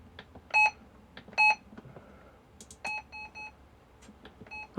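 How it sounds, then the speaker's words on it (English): A ham radio transceiver sounds a string of short, sharp electronic beeps while its menu is worked, some single and some in quick clusters, loud and close over faint button clicks. "I don't mind the beep, but the obnoxiously loud beep?"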